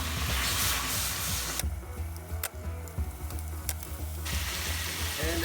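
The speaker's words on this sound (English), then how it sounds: "and don't forget to stir." Ginger pork in a soy sauce, garlic and ginger marinade sizzles loudly in a pan as it is stirred, a dense, steady frying hiss that dips briefly in the middle before surging back.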